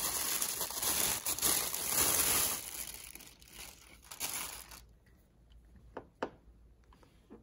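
Plastic wrap crinkles and rustles as a Leica Q2 camera is unboxed, loud and continuous crumpling at first, then quieter with a few sharp ticks and crackles near the end.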